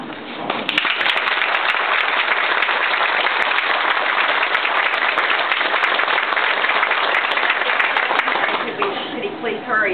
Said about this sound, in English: Let's stop just a minute and give him another round of applause.